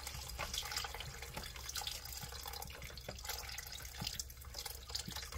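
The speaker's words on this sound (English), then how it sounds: "I'm just going to pour some" Beef broth poured into a cooking pot makes a steady, continuous liquid splash and trickle, close and moderately loud, with no talking.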